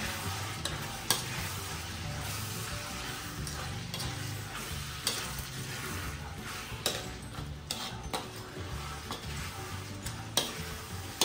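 Chicken pastil with siling labuyo chilies frying in a pan, a dense continuous sizzle close up with occasional sharp clicks and scrapes of a utensil stirring.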